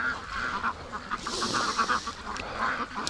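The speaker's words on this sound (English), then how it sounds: "Oh, you ducks. You're so cute." A flock of ducks in a muddy pen quacks in a busy, overlapping chorus, close and fairly loud, with rapid repeated calls throughout.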